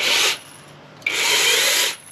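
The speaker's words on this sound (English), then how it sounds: "So it's like I said before, it's a 6-inch chainsaw." A small battery-powered 6-inch mini chainsaw buzzes in two bursts, a short one then a longer steady run, with a quiet gap between.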